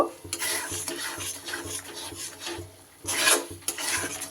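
Chhana (cottage cheese) cooking in a pan for nolen gur sandesh is stirred nonstop, a utensil scraping and rubbing against the pan in close, rhythmic strokes with a brief pause before it resumes.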